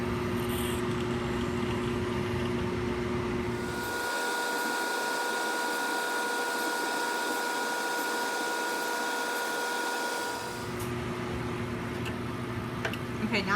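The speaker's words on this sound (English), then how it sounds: "I've already attached my pipette to the vacuum." A steady whirring lab vacuum motor hums continuously, its pitch and tone shifting for several seconds in the middle as a pipette attached to the vacuum aspirates media from a cell culture plate.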